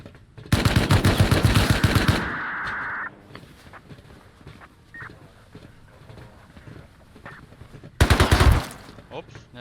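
Rapid automatic gunfire in the video game Rust, a loud burst of several seconds at close range followed later by a shorter second burst, with quieter footsteps and game noise between.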